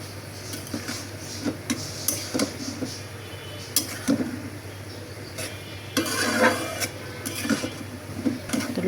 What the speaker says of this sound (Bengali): তো লবণ দিয়ে ভালো করে মিক্সড করে দিচ্ছি।